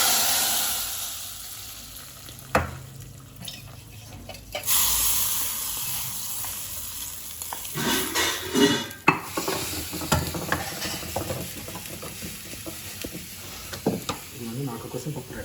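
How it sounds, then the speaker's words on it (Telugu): Spice tempering sizzles in a pan and is stirred, a hissing fry broken by scraping stirring strokes and clatter, with a voice heard briefly. "పోపు ఒకసారి కలుపుకొని"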